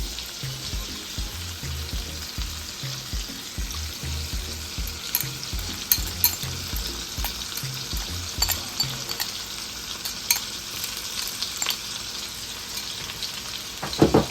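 Cilantro and peppers sautéing in a pan for a scallop and shrimp dish, with a steady close sizzle broken by irregular stirring scrapes and light utensil knocks, and no voices.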